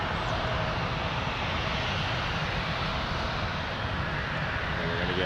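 Jet aircraft engine roar at Toronto Pearson airport, with an Embraer 175 and a Boeing 737 moving on the airfield; a steady, loud, broadband rumble holds throughout.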